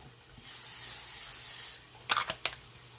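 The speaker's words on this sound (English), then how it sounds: "I'm just going to actually hit it with the spray" A steady hiss of cooking oil spray on spinach and garlic runs for about a second and a half, followed by a few soft rustling taps.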